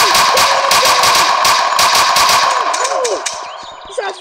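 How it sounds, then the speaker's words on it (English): A rapid burst of repeated gunshots from a police shooting, loud and close, rattling in a fast string over a low engine rumble and fading into scattered sounds at the end. "Shots fired, shots fired."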